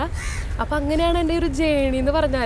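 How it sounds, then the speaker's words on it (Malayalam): Crows cawing in a park, heard beneath a flowering tree as a string of harsh, repeated calls mixed with a person talking steadily over them at close range. "കാക്കയുടെ സൗണ്ട് ഉണ്ട് കേട്ടോ, സോറി. നമ്മുടെ പാർക്കിലാണ് ഒരുപാട് കാക്കകളുണ്ട്"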